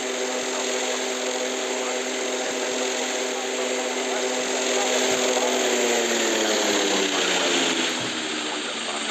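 A steady, loud turboprop engine drone from an ATR 42 airliner in a video game, with a whining tone filling the whole stretch, its pitch dipping slightly toward the end.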